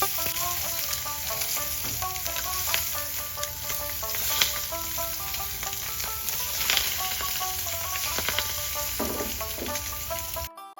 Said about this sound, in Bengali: তেলটা গরম হয়ে এলে মাখিয়ে রাখা মাছগুলো দিয়ে ভেজে নেব